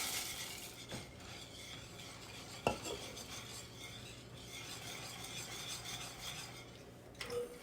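A spoon stirring pecans into thick German chocolate icing in a pot on the stove, soft continuous scraping and light clinks against the pan, faint and close with no talking.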